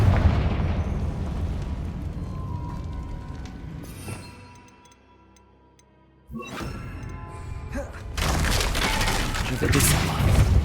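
A Confringo blasting spell explodes in the Hogwarts Legacy video game: quiet game ambience thins out, then a sharp burst hits and swells into a loud, sustained roaring blast.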